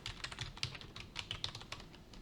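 Quick, light keystrokes clatter on a computer keyboard as menu choices are entered during Java programming, a close, brisk patter of clicks with no voices.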